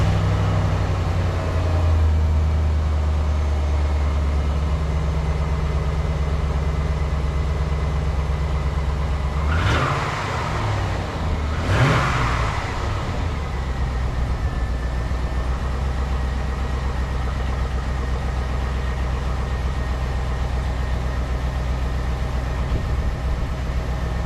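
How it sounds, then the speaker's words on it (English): A 2003 Chevrolet Silverado pickup's engine idles steadily after a cold start on the stock exhaust, with a deep, rumbling low end, and two brief bursts of louder revving break in partway through. "give it a cold start, and let you guys hear it factory"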